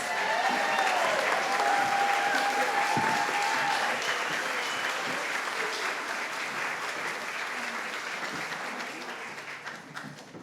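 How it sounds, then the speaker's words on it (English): A large audience at a youth forum closing session applauds the kids, loud, steady clapping that continues for about ten seconds before gradually fading, with a few faint voices and whistles mixed in. "applause for the kids."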